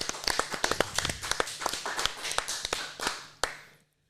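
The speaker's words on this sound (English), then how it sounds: "A round of applause for Will." Scattered clapping from a small group marking a birthday, uneven and fairly close, with loose claps overlapping for about three seconds before a last sharp clap and quick fade.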